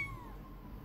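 A single short cat meow from Jazzpunk, a descending cry fading quickly over a steady low background drone, faint and close.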